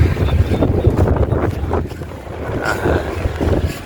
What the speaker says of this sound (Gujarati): ઠંડો પવન એટલો આવે